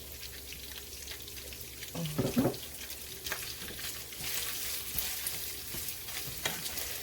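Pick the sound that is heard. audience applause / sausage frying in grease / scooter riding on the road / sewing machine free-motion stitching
sausage frying in grease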